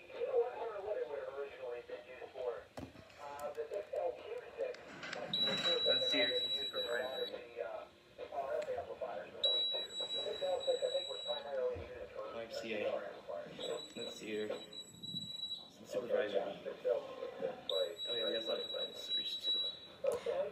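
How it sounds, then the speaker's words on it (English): Philadelphia's fire alarm system under test: a shrill electronic tone sounds in short bursts, repeating about every four seconds, over constant voices and background chatter. "that's basically an example of Philly's fire alarm system."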